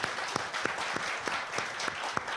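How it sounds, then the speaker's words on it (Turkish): A crowd at a Turkish highland music program claps in a brisk, regular rhythm of sharp beats about every third of a second, moderately loud and close, with no speech. "Sizlerden güçlü bir alkış alayım Toklarköy için."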